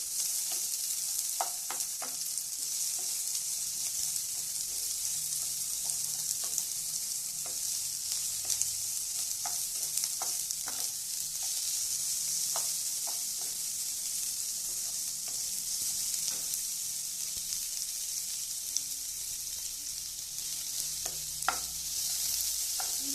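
Green chilies fry in a pan with a constant bright hiss of hot oil, broken by scattered light taps and scrapes as they are stirred, heard up close with no speech.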